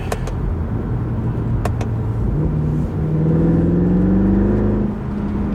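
Loud and close, a Mercedes C63 engine accelerates in third gear on a road leaving town, its rumble rising into a climbing, strained whine before easing off, with a few sharp clicks early on.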